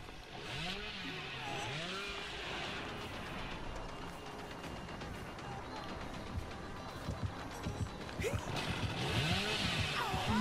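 Chainsaw revving in the horror video game Dead by Daylight, a rough mechanical buzz running beneath game music and ambient effects, with a player's voice occasionally audible.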